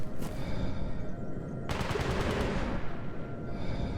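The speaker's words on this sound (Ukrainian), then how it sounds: "Знову стрілянина." Bursts of distant rapid gunfire in the video game S.T.A.L.K.E.R. Anomaly crackle over a steady low rumble, with a sharper automatic volley in the middle.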